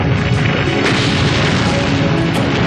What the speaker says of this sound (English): The British battleships open fire.